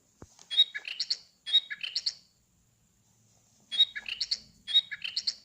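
Small songbird chirping in two bursts of rapid, high, bright tweets separated by a silent gap, clear and close with no talk.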